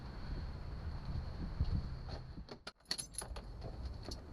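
Keys jangle at the ignition of a 1990 Ford Mustang as the key is turned, a close metallic rattle over low background rumble, with bright clinking bursts in the second half.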